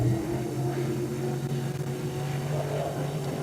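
Race car engine lapping a track during time trials with a slight misfire, a steady loud droning roar that holds throughout with a faintly uneven texture.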